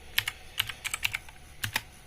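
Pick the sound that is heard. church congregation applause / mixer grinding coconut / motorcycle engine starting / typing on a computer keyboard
typing on a computer keyboard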